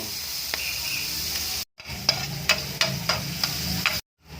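Garlic sizzles in butter in a pan, a steady hiss close by, broken by a short gap and sharp spatula taps on the pan before it cuts off.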